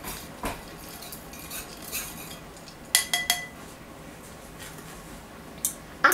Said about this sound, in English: Actually, I'm going to use a spoon. These are my little espresso spoons.